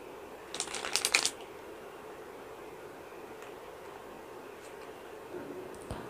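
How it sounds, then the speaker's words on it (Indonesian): Tarot cards being shuffled, a brief crisp riffling burst lasting under a second against a quiet room hiss, followed by faint scattered taps of card handling. "saya akan kocok kartunya terlebih dahulu ya"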